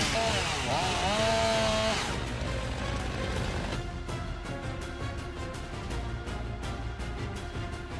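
A saw on heavy tree-stump handling equipment cuts with a loud, steady buzzing roar for about two seconds, then continues more faintly under a rhythmic musical backing.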